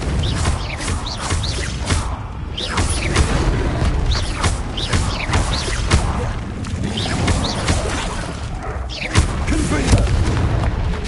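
Confringo blasting spells exploding in the Hogwarts Legacy video game, a dense run of booming blasts and crashes over constant combat noise, loud and close throughout.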